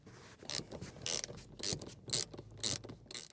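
Clicking bursts come from a manual ratchet with a Torx bit backing out a rear seat bolt in a Vauxhall Corsa D, several short runs of quick pawl ticks separated by brief gaps, close and fairly quiet.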